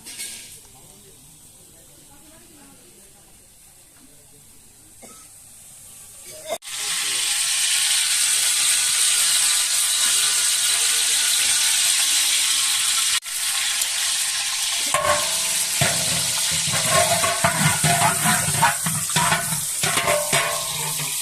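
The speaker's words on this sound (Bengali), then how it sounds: "চাল দিচ্ছে" Uncooked rice poured into a large cooking pot for a wedding feast, a loud sustained rushing hiss of grains that starts abruptly and continues for many seconds, with faint background voices.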